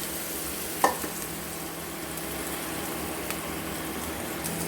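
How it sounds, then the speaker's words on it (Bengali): A potato frying in a pan with turmeric and salt, giving a soft, constant sizzle with one sharp clack of a spatula early on and a fainter knock later. "এবার আলুটাকে একটু হলুদ লবণ দিয়ে ভেজে নেব।"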